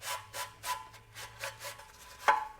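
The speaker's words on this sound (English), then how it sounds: "slowly let the rope start recoiling itself back in" A recoil starter rope on a Toro Super Recycler lawn mower winds slowly back into its housing, a soft rhythmic rubbing and rasping in repeated strokes ending with a sharper click, close and fairly quiet.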